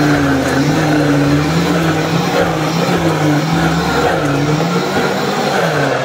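A blender whirs through a mango graham shake in a small cafe, a loud, steady grinding roar with a wavering motor whine that fills the whole stretch without pause.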